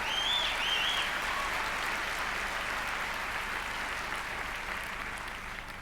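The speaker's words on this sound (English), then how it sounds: "Give yourselves a round of applause" Audience applause at a live show in Wellington, a broad, sustained round of clapping that gradually tapers, with a brief whoop or whistle near the start.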